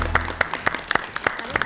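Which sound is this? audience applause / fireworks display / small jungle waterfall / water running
audience applause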